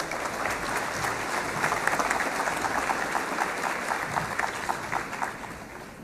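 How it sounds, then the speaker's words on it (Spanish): Sustained audience applause at an international conference on public property management, honoring a panel; dense steady clapping from a sizable crowd, even in level throughout with no talk over it. "Un aplauso, por favor, para nuestro panel."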